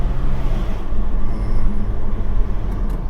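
A car pulling hard under acceleration after an injector fault was repaired, a steady loud engine and road rumble filling the whole stretch with no break.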